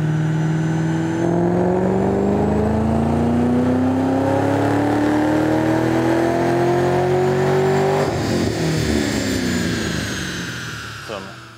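Supercharged car with a Magnaflow exhaust revs on a Dynajet dyno, its engine note climbing steadily in a long loud pull before dropping off, with supercharger whine on top.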